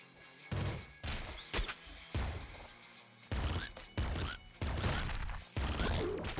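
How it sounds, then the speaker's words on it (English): Rapid bursts of laser machine gun rifle fire in the Nuclear Throne roguelike, sharp punchy volleys in quick repeated clusters separated by brief gaps, loud and close with no talking. "Laser machine gun rifle."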